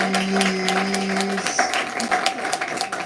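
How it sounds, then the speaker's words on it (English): Audience applause for a speaker at a nighttime MLK Day event in Sioux Falls, scattered clapping and crowd noise, with a sustained tonal hum from the venue running underneath the first half. "one more round of applause for Zach Van Harris Jr., please."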